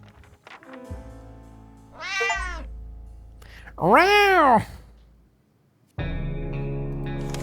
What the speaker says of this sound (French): Il y avait un chat!